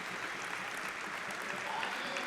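Applause for an injured Riverdale wrestler at a high school wrestling invitational in a gym, a steady wash of clapping from the crowd.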